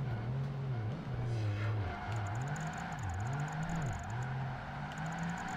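Race car engine in Project Gotham Racing 2, a loud, continuous drone that rises and dips through repeated gear shifts and revving, with no voices over it.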